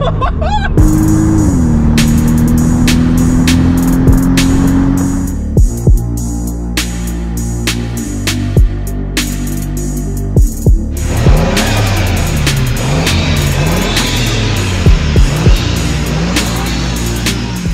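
A Toyota Supra MK4 engine revs and drives close by, with a loud rising and falling engine note, sharp revving bursts and shifting pitch sweeps over a continuous roar, and no voices.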